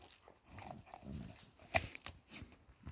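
A dog moving nearby in a forest while mushroom picking, with a couple of short, sharp yelps or barks standing out over rustling and scuffling.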